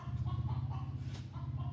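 A chicken clucks in a steady rhythmic run of short low calls, fairly close and moderately loud, continuing throughout with no talk, around a farmyard where a Wheel Horse 552 garden tractor is being worked on.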